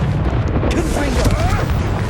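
A Confringo explosive spell goes off in Hogwarts Legacy combat, a rumbling blast with crackling fiery debris layered under dense battle noise and spoken dialogue.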